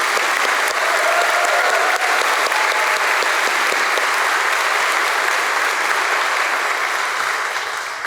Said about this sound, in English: one more round of applause for these two amazing leaders.